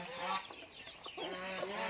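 Chickens cluck close by at feeding time in a backyard garden where ducks and geese are also kept, a few overlapping throaty calls and short squawks rising and falling over a soft outdoor background.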